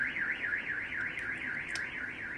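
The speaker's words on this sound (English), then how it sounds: "Thank you very much, car alarm." A car alarm wails nearby in a steady, continuous rising-and-falling siren tone, loud and alone with no talking over it.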